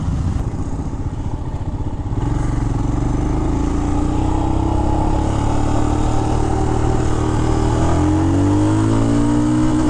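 A Royal Enfield Himalayan motorcycle engine held at full throttle, a steady loud drone with rising pitch, close and continuous with no other sounds.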